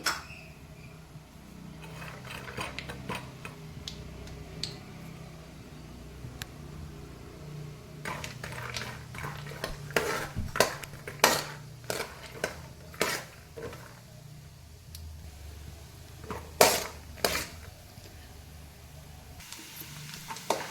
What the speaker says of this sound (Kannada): ಇದಕ್ಕೆ ನಾನು ಶೇಂಗಾವನ್ನು ಫಸ್ಟ್ ಅದನ್ನು ಹುರ್ಕೊಳ್ತೀನಿ ಶೇಂಗಾನ ಹುರ್ಕೊಳ್ತೀನಿ